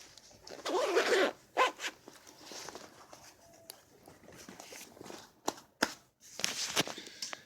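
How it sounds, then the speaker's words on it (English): A coat zipper is pulled up in a few quick rasping strokes outdoors on a chilly night, followed by scattered rustling and clicks of clothing handling. "Zip my coat up here."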